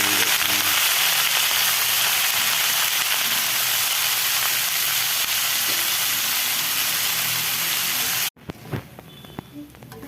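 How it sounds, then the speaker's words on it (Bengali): Yardlong beans fry in hot oil in a pan with a loud, continuous sizzle and hiss that cuts off abruptly near the end, followed by a few faint clinks. "ভাজা হয়ে গেল আমাদের বরবটি"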